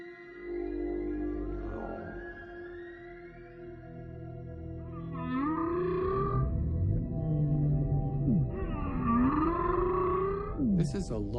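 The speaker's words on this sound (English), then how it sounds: "The whole ocean is illuminated by the sounds of the whale" Humpback whale calls echo underwater, long sweeping moans and rising, falling tonal cries with some rougher grunts, loud and sustained over a low rumbling ocean background.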